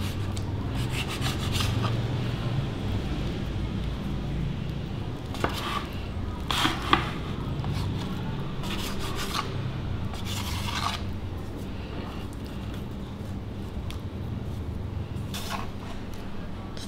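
A knife chops a floured slab of dough into long strips and then small pieces on a board, with a series of soft, scraping cuts in an irregular rhythm, close and faint, and no talk.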